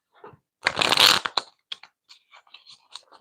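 A deck of playing cards is shuffled in one quick riffle burst, followed by a few soft scattered taps and card flicks, close and isolated.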